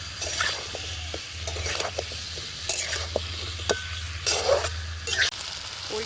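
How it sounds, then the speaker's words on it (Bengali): Elephant foot yam stir-fried in a pan for a traditional village dish with coconut, spatula scrapes and stirs coming in irregular bursts over a steady close sizzle, with no voices. "ওলটা কষিয়ে নিয়েছি"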